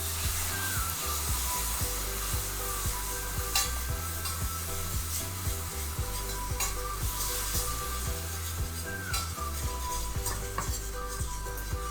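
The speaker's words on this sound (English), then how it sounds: "I'm going to add about a half at a time while stirring continuously" Milk stirred continuously into a creamy pumpkin pasta sauce in a pan, a steady scraping and swishing with a soft sizzle underneath, close and constant with no talking.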